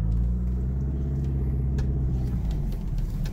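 A warmed-up 1988 Toyota Celica engine idles with a deep, steady rumble, close and even, with faint ticking on top and no speech.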